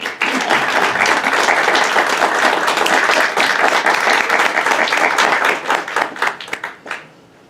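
Strong, dense applause from an audience at a book presentation, many hands clapping loudly and steadily for several seconds before tapering off into a few last claps.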